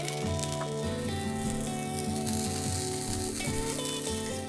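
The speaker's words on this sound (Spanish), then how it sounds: "Pondremos los garrofones para que vayan cociéndose." Lima beans cooking in a paella pan, a steady close sizzle and simmer under what sounds like background music, with no speech.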